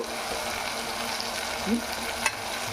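Ginger garlic paste fries in a pan for a traditional rooster curry, giving a steady close sizzle with light stirring scrapes and no one speaking.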